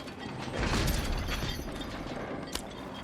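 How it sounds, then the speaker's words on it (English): A chandelier is hoisted by a creaking mechanism in Uncharted 4, a dense grinding of ratcheting gears and pulleys that swells, runs steadily for a few seconds and ends with a sharp clank. "Raise the chandelier."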